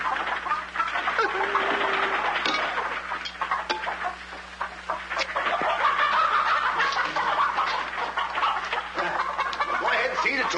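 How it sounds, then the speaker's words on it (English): Chickens on a farm, clucking and squawking busily while being fed, a dense overlapping chorus of close bird calls with scattered sharper cries, and voices talking intermittently over the flock. "Well, feed the chickens."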